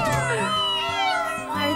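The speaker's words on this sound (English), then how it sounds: "They're T.T.'s adorable little kittens." Cartoon kittens mewing in a bus animation, several high, thin meows overlapping in quick succession, close and clear over a soft musical bed.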